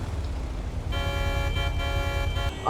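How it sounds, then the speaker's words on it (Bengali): A car horn blares in one sustained, loud honk lasting well over a second, close by, following a low rumble of traffic. "কোন হতচ্ছার এত হর্ন বাজাচ্ছে"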